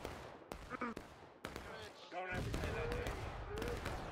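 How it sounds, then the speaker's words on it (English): Heavy canister shot artillery fire in the War of Rights game, a Civil War battle, with several sharp booming blasts scattered across a dense din, while people talk over it throughout. "devastating canister shot there from the JB"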